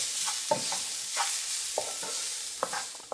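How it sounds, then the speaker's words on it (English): Garlic sautéing in a pan, tossed often so it does not brown, gives a soft steady sizzle with several sharp scrapes and clinks of stirring spaced across it, and no one talks. "you really want to make sure that you're tossing it frequently because you don't want the garlic to burn or brown"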